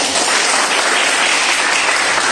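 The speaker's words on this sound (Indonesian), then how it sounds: "Tepuk tangan." Steady, dense applause fills a classroom during a physics teaching-practice lesson, a continuous wash of many hands clapping with no talk over it.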